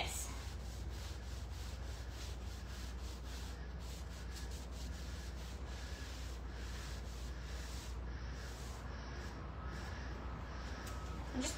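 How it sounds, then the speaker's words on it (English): A cloth wipes excess natural paint wash off a wood surface, making a steady soft rubbing and scuffing texture that runs continuously, close by and fairly quiet, with no voices. "you're gonna come in with your cloth, and you're gonna start wiping away"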